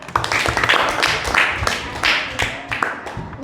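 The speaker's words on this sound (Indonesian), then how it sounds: "Tepuk tangan untuk kalian semua." Children clapping in a classroom, a small group giving a short, uneven round of applause with distinct individual claps close by, faint voices underneath.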